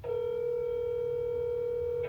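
A single steady telephone tone, likely a dialing signal, holds clear and unbroken for about two seconds with no talk over it, then stops abruptly.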